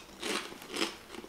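Crisp bites into sweet-and-salty puffed corn chips, two distinct crunchy bursts close to the mic with a faint third at the end, no talking.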